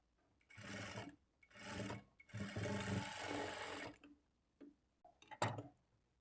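Sewing machine stitching a blouse lining cloth, heard close in several short runs of rapid whirring stitches separated by brief pauses, with a final quick burst near the end and no talking over it.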